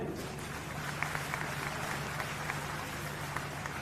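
The crowd at a political rally in Jhajjar, Haryana, claps in a steady, dense round of applause, broad and moderately loud with no pause across the short stretch.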